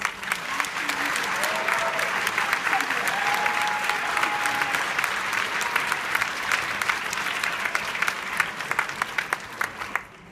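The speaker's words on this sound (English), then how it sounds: "So would you give a wonderful round of applause?" An audience claps in steady, sustained applause at a political gathering, a dense, even patter of many hands that lasts for several seconds before it begins to fade.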